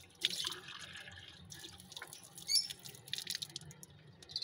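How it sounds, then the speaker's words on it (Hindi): A water tap runs into a container to fill drinking water for caged partridges, a faint trickling and splashing with scattered drips and small clinks, no talking. "अब इसमें ठंडा पानी आ रहा है। हम अपने तितरों के लिए पानी भर रहे हैं"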